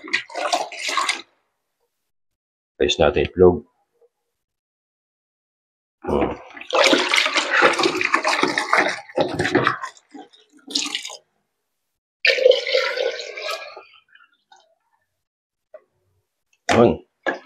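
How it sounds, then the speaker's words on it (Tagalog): Water is poured into a container of duck eggs in bursts for salted egg making, with several splashing, gushing pours separated by pauses, close and fairly loud, plus a brief sharp knock near the end. "Pupunuin na natin ng tubig."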